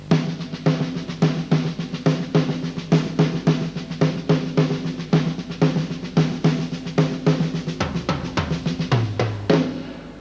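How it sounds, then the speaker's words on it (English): Single, double and triple paradiddle patterns looped one after another on a drum kit, a steady stream of quick close strokes with regular accents, ending on a low tom or kick hit, played alone without voices. "Now what I did is I looped all 3 of them, and it sounds like this."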